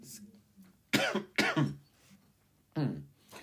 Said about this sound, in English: Lord, I'm coughing.